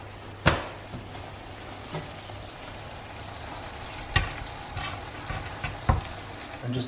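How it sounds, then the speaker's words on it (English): Cooked rigatoni tossed into a frying pan with Italian sausage and prosciutto, giving a soft continuous sizzle broken by several sharp clacks of the pan and utensil. "now it's just a case of getting the pasta into the pan"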